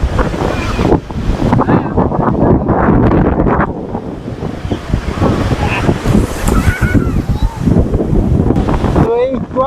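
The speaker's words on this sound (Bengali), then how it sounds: "প্রচুর পরিমাণে আর কি বাতাস ছাড়তেছে এখন আর হালকা হালকা বৃষ্টি হচ্ছে" Strong wind buffets the microphone over big, rough surf at Kuakata beach during light rain, a loud, continuous roar of wind and crashing waves with brief dips.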